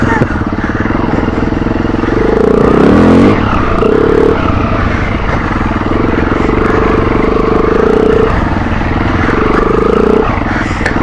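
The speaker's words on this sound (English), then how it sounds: "Big bikes, look, that is a big bike." Big trail motorcycle working through ruts on a green lane, its engine droning loud and close throughout, rising and falling with throttle changes.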